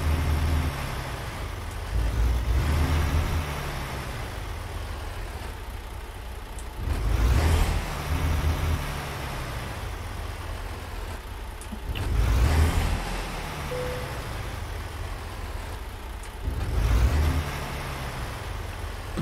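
A truck in American Truck Simulator backs up, its engine rumbling steadily with periodic louder surges every few seconds and no voices.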